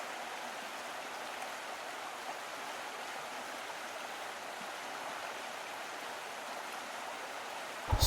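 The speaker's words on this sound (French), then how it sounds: "Superbe cascade, hein." A Himalayan waterfall sends out a steady, dense rush of falling water. The roar sounds close and stays even throughout, with no other sounds.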